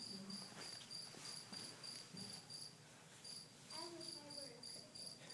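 A cricket chirps in quick, regular pulsed bursts, faint and steady, repeating through the whole stretch against quiet background noise.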